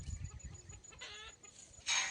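Hens cluck softly in a village yard, a few short clucks and calls at low level with a louder burst near the end, no talking.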